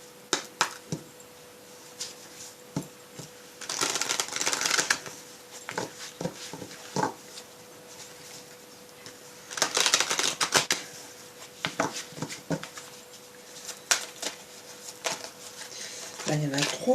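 Oracle cards are shuffled in repeated crisp riffling bursts, each a few seconds long, separated by quieter handling clicks, close up, with someone speaking at times between the bursts.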